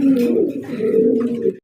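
Morasel pigeons coo close by in a steady, throaty run of low rolling calls that carries on for about a second and a half, with no other sounds.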